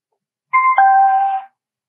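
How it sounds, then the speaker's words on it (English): A GOOD FEEL TG113 Bluetooth speaker sounds its pairing chime, a clean two-tone electronic ding that rises briefly then fades, alone in silence. "With that chime, we know that it is connected"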